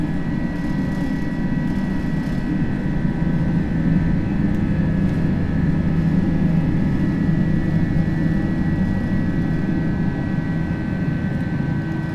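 Airbus A320 engines drone steadily in a flight simulator as the aircraft climbs after takeoff, a loud, continuous low roar with a faint high whine, constant throughout with no talking.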